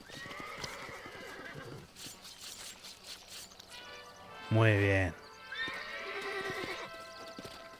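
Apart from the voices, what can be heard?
horses neighing and hooves in video game Red Dead Redemption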